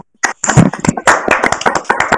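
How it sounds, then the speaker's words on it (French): Scattered, irregular claps from a small audience at the end of a talk on mechanical keyboards, close and crisp, with uneven gaps between the bursts. "c'est l'heure des applaudissements"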